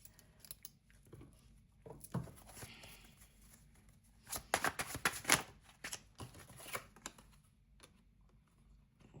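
Tarot cards being shuffled and handled, soft papery riffles and flicks in uneven bursts, close and quiet, with a louder cluster of rapid snaps midway and no speech.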